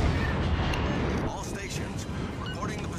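Naval guns boom in the warship game World of Warships: Legends, a dense, continuous rumble of heavy shell fire and impacts filling the whole stretch, loud and close, with a voice talking over it.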